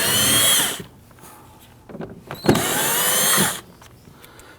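Power drill spinning out fender liner screws on a 2009-2017 Volvo XC60, two loud high whirring bursts separated by a quieter pause with small clicks and handling noise, close up.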